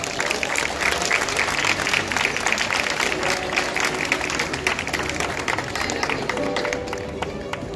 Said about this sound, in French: Oui, vous avez toujours le droit d'applaudir